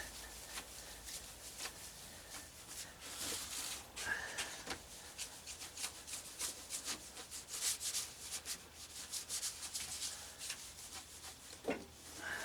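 A Sandvik No 277 saw blade is polished by hand, producing quiet, close back-and-forth rubbing strokes in an irregular rhythm, soft and scratchy with no voices.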